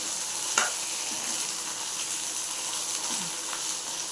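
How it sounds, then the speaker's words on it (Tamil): Brinjal sautés in oil in a pan with a constant, fairly close hissing sizzle and a faint scrape or two of stirring. "இப்போ இந்த எண்ணெயிலே நல்லா வதக்கலாங்க"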